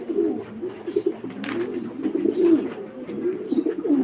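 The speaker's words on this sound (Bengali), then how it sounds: "যেগুলো ফোস্টারিং কবুতর এগুলো হচ্ছে এই র্যাসার আফসান গ্রিজেল" Pigeons at a pigeon farm in Senbag, Noakhali, including racer and house pigeons, coo continuously in low throaty rolls that overlap close by, with a faint brief chirp and no clear speech.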